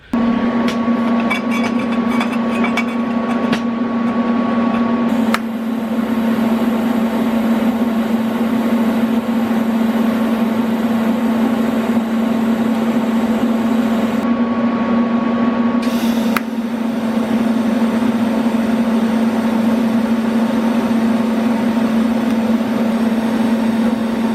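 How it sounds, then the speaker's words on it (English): Bandsaw cutting a metal downpipe, a loud steady motor hum with a constant buzzing whine that shifts slightly in tone twice as the blade works through the pipe, close and continuous with no talk. "So now I'm going to try and cut it out with my bandsaw"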